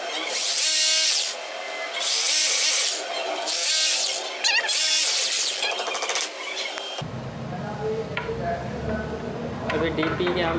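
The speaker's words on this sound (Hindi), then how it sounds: "अभी डीपी के हम चारों स्क्रू लगाएंगे और इसको अच्छे से मजबूती से काबू करेंगे।" Power tool driving the four screws of a breaker box during a solar system installation, a loud whirring buzz in several bursts, then quieter room noise with someone talking.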